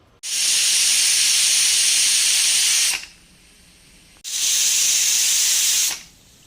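Two loud, sustained whistles of steam from a pressure cooker cooking masale bhaat, each lasting a few seconds and cutting off sharply, with quiet gaps between.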